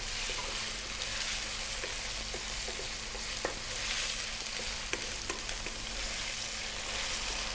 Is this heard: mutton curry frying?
yes